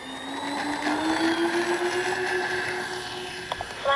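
RC B-25J twin-engine scale model airplane taking off with flaps set, a steady droning motor whine with a slowly rising tone, continuous and moderately loud, with faint wind noise and a couple of brief clicks near the end.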